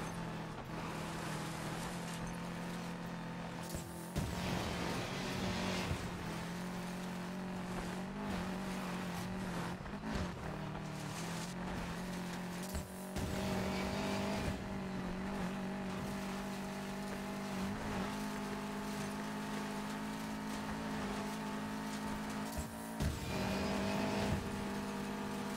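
A race car engine drones steadily in a video game, with revving surges, shifts and brief tire squeals through the laps, loud and continuous with no talk.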